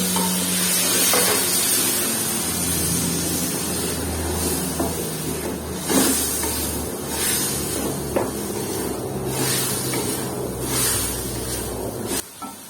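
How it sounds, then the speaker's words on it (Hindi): Chicken sautéing in a pan for a dhaba-style cauliflower and potato curry, a steady sizzle with spoon scrapes and stirring clatter running throughout, close and fairly loud. "चिकन को अच्छी तरह भूनेंगे हम।"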